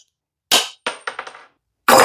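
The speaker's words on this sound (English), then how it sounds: "I use my knipex like hammers." Sharp metallic strikes from Knipex pliers used as a hammer: one loud impact, then a quick cluster of four lighter taps, and another heavy hit at the end, close and alone.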